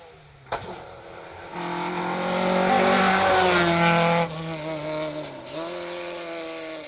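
A rally car, car 89, blasts along Stage 3 of the 2023 Down Rally after a sharp crack. Its engine revs climb in loud rising tones, with quick gear shifts cutting in as it passes close by.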